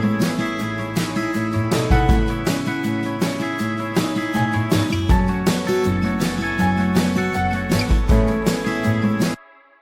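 A full drum mix, shaped with a matching EQ curve, plays punchy, steady rhythmic hits with ringing tonal layers for about nine seconds, then cuts off abruptly.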